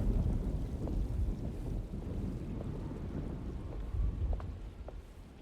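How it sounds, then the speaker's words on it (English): An approaching storm in the video game Alone in the Dark: low rumbling thunder rolls beneath steady gusting wind, with a heavier swell of rumble near the end, no voices present. "Looks like a storm's coming."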